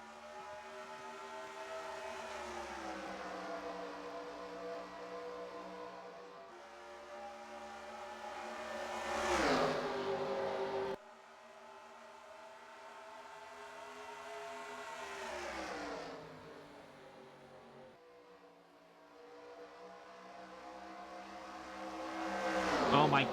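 Stock cars race at Darlington Raceway in the NASCAR Racing 2003 video game, a loud, continuous engine drone whose pitch climbs and drops in long sweeps as the field circles the track.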